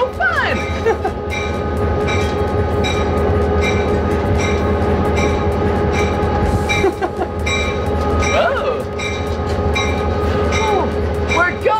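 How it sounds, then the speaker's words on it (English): A fast-moving train rolls along loudly and steadily with rumbling wheels and rattling carriages, while a whistle sounds briefly several times over the noise. "I love riding the trains!"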